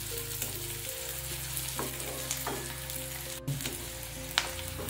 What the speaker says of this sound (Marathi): कांदा थोडासा लाल होऊन देऊया।